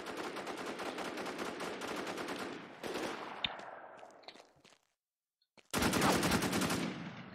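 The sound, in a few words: AK rifle gunfire in the video game War Inc. Battlezone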